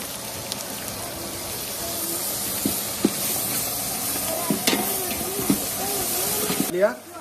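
Green chicken masala and chopped onions fry in hot oil with a continuous close hiss and sizzle, broken by soft scraping taps from stirring, while a voice talks over it.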